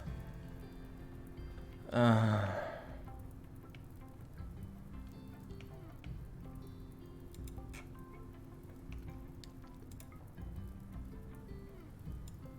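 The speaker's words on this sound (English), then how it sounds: "It's raining, right?" Rain in the video game RimWorld patters as a soft continuous hiss under layered game music and tonal notes, with one brief louder clinking burst near the start.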